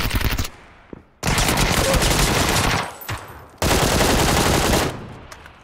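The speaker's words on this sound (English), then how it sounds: "I'm gonna shoot them to distract them." Long bursts of automatic gunfire in the video game PUBG, two sustained volleys with a shorter rattle between, loud and dense.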